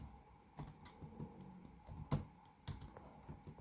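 Computer keyboard typing during a GIMP image-editing session, irregular soft key taps in short bursts with a few louder strokes, fairly close and quiet, no talking.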